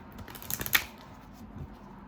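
Oracle cards shuffled by hand in a quiet room, a short soft flurry of papery riffling that peaks in one crisp slap, then fades to near silence.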